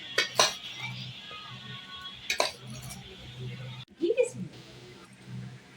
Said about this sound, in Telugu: ఇలా ఒక శుభ్రమైన స్టీల్ గరిటె పెట్టుకొని దీన్ని అంతటిని మిక్స్ చేసుకోవాలండి బాగా